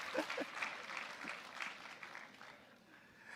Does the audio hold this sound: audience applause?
yes